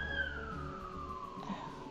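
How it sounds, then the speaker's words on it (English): An ambulance siren passing by in Puerto Rico, a faint, distant wailing tone slowly falling in pitch over a low background rumble. "an ambulance going by."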